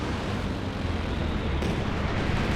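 Bombs dropped by P-47 aircraft in an air strike in Company of Heroes 2 burst in a dense, continuous rumble of overlapping blasts and debris. The sound is loud and sustained throughout, with no talk.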